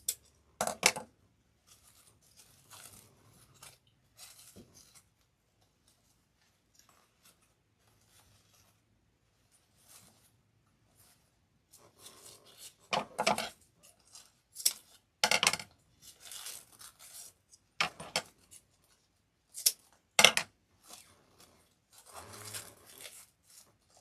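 Scissors snip and trim the felt pieces of a butterfly door hanger kit, a quiet stretch followed by scattered, irregular close cuts and rustles.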